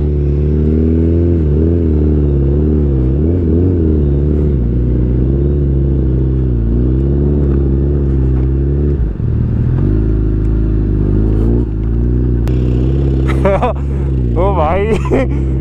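A Suzuki Hayabusa ridden through a muddy, twisting turn makes a loud, continuous engine drone that rises and falls with the throttle. Excited shouting from the rider runs over it near the end.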